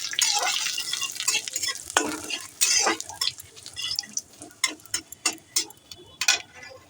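Grated ginger fried and stirred in a pan for sago khichuri, heard as irregular spatula scrapes and metallic taps over a faint background sizzle, with no talking.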